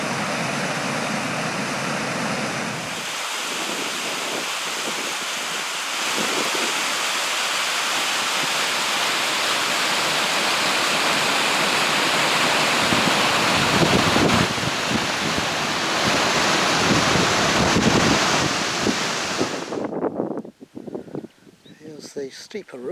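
Water from a reservoir drawdown tunnel exit rushes out as a loud, continuous broadband roar for about twenty seconds, then cuts off abruptly.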